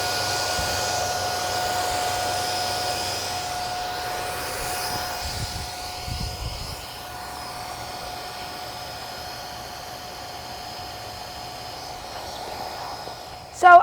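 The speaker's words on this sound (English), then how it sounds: "I'm just going to flip the switch and it's going to inflate" An electric air pump inflates a gymnastics mat with a steady, droning whir that holds for several seconds, dips slightly in the middle and ends with a sudden clunk.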